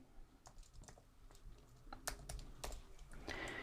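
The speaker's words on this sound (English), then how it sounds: "so I'm going to type these numbers in." Faint, quick keyboard typing with irregular clicks and taps as a code of numbers is entered on a computer keyboard, close and alone without talk.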